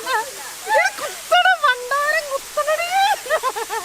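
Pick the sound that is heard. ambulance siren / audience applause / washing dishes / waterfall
waterfall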